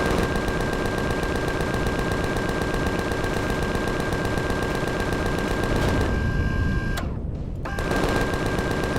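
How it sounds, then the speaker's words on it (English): Rapid automatic gunfire in the space survival game Empyrion, a steady, loud stream of shots at an even fast rhythm that cuts out briefly near the end before resuming. "Oh, somebody's shooting at me."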